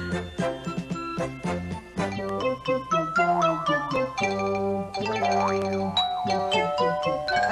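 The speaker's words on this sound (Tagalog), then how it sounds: "Pero parang may nag-doorbell, ah!" A cartoon doorbell rings in a Doraemon episode as bright chiming tones and bouncy jingles that fill the clip, loud and continuous over music, with no talk.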